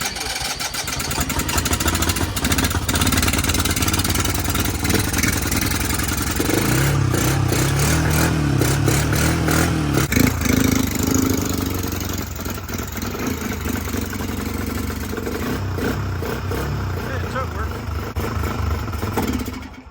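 A small Kymco 150 ATV, revived after sitting more than ten years, has its engine cranking and running. A loud, steady, close clatter shifts in pitch partway through, while people talk over it.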